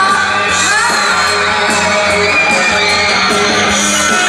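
A concert audience at an outdoor Mid-Autumn gala celebrating Changhua County's 290th anniversary screams, whoops and cheers continuously and loudly, with a dense wall of crowd noise and scattered yells throughout.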